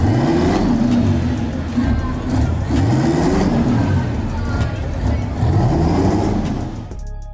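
A heavy drift truck revs hard for several seconds, its loud engine rising and falling in rough surges with tire squeal mixed in, the roar cutting off abruptly near the end.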